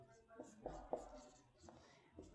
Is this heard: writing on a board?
yes